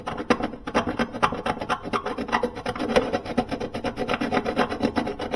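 An aluminum evaporator surface on a Sub-Zero refrigerator is scored by hand before soldering, with rapid, rhythmic rasping strokes that scrape back and forth close up and loud.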